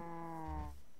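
A Minecraft cow gives a single harmonic, drawn-out moo that ends in a low rumble, loud and close with no talking over it.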